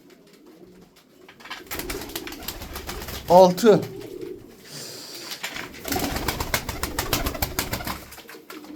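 Tumbler pigeons cooing in a loft, a short burst of rolling coos midway, mixed with rustling, wing flutters and someone talking nearby.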